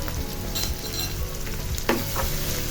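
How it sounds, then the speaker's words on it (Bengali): A spice mix of chili powder, cumin powder and salt sizzling and frying in a hot pan for a mixed vegetable fry, a loud, continuous crackle with occasional stirring scrapes, close up and without speech. "এখন এই মশলাটাকে একটু কষিয়ে নিব।"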